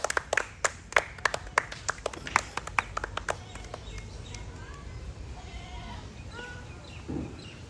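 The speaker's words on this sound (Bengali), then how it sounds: "জোরে জোরে তালি হবো" A crowd at an outdoor street show claps in quick loud bursts, then the clapping fades into background chatter and bustle, with a few animal-like bleats toward the end.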